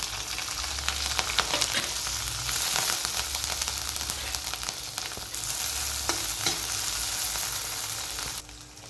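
Cumin seeds and chopped green chillies frying in a spoonful of oil for a chilli thecha, giving a continuous close crackling sizzle broken by sharp stirring clicks throughout.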